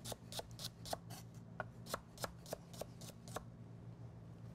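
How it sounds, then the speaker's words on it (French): A chef's knife slices leeks on a cutting board, about a dozen crisp, quick chops in a steady rhythm with a low kitchen hum underneath, close and fairly quiet, with no voices. "On va les trancher, les hacher, les trancher, plutôt les trancher que les hacher."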